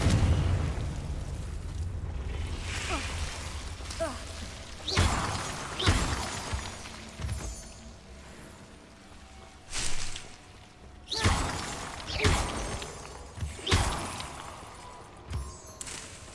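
Fiery Confringo spell blasts in Hogwarts Legacy: a string of loud, sharp explosive bursts with shattering crackle, arriving in irregular bunches over a steady game-ambience bed, with no talking.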